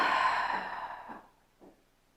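A long, soft, breathy exhale during a postpartum Pilates core workout, heard close and fading out, followed by a couple of faint quiet breaths.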